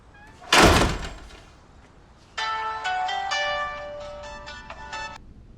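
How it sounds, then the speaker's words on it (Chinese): A phone ringtone plays a bright repeating melodic tune for about three seconds, starting right after a loud door thud, in a quiet indoor room with no talking. "小公，你怎么来电话了？"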